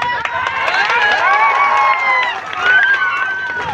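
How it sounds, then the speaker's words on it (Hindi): A crowd at a political speech in a Hindi-speaking region claps and ululates, with dense overlapping high trilling cries and applause rising and falling loudly for several seconds. "ताली तो और कुलकुली बड़ी बज रहा आप लोगों का"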